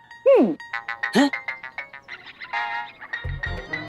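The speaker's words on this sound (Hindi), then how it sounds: "किसका बजा फोन है?" A phone ringtone plays a bright repeating melodic tone, with sliding whistle-like notes early on and a low rumble near the end.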